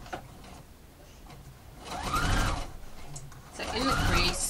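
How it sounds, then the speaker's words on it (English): A sewing machine stitches bias binding around a garment armhole in two short, close bursts of rapid mechanical whirring, with quiet pauses before and between them. "I'll just sew halfway around just to show you how easy it is"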